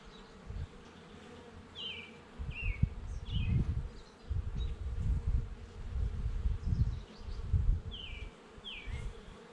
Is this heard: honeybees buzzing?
yes